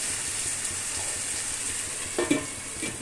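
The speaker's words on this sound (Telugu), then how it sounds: "వేయించుకుందాం మగ్గబెట్టుకున్న ఉల్లిపాయలు" Softened sliced onions and green chillies fry in a pan for crab curry, giving a steady, close sizzle with a brief clatter of stirring near the end and no talk.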